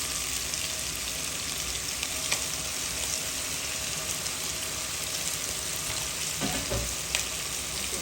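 Vegetables fry in a hot pan for a Bengali bean stir-fry, a dense continuous sizzle with occasional stirring scrapes near the end, close and steady with no talking.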